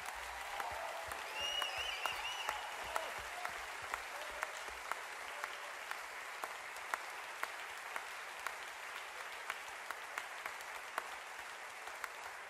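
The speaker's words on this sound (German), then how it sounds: "Riesen Applaus für den Gex am Sound." A concert audience claps steadily for the sound engineer at a live show, dense sustained applause from a crowd filling the room, with a faint voice barely audible beneath it.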